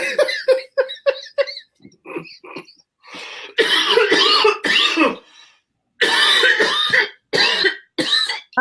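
Repeated coughing fits and throat clearing from one person close to the microphone on a radio show, bursts of harsh coughs coming in clusters with short pauses between.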